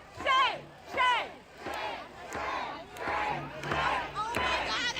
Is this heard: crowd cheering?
yes